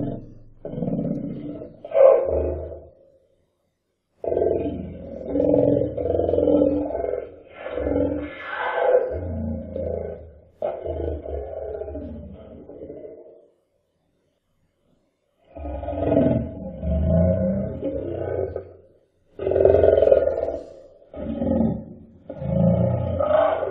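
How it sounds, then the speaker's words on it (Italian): Distorted, gloomy roar repeating in long heavy surges, loud and close, with low rumbling growls separated by brief silences. "il suono ci colpisce come un tetro ruggito"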